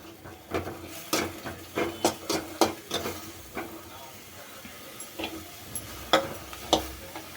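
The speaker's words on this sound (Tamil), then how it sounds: "இந்த வெங்காயத்தை போட்டு கொஞ்சம் நல்லா வறுத்துடலாம்." Onions frying in a pan give a soft, low sizzle, broken by a series of clear spatula taps and scrapes as they are stirred, fairly close and quiet, with no voices.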